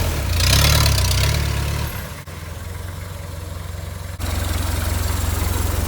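A Toyota FJ40 fitted with a 3B diesel engine idles with a steady low clatter, briefly louder at the start before settling into an even, close-up diesel chug.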